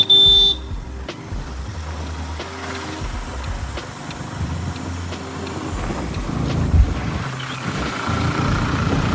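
A motorcycle speeding along a village road with a passenger on the back, its engine a steady, close drone under heavy wind buffeting that swells slightly toward the end, with no talking.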